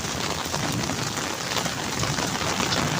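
Heavy rain pours down on a village in Pakistan, a dense, continuous hiss of drops beating on surfaces that stays loud and even from start to finish.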